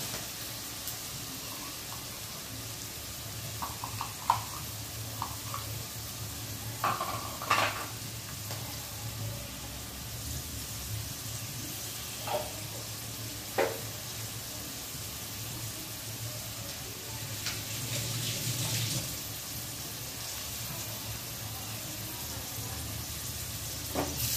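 A whole onion frying in oil with cumin, mustard seeds and turmeric after black-eyed peas, giving a low, steady sizzle with occasional clinks and stirring scrapes and a brief louder hiss near the end.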